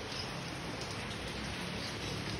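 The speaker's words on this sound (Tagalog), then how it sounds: "Ayan nyo, lakas ng ulan, no?" Heavy rain pours steadily, a dense even hiss of drops on surfaces outdoors during pigeon training, continuous and fairly loud with no voices over it.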